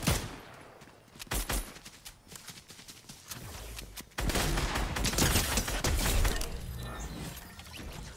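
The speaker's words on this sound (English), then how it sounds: "Look at that awful bit of shooting there." Bursts of rapid gunfire from the Fortnite video game crackle loudly, with a dense sustained barrage in the second half and shorter volleys earlier.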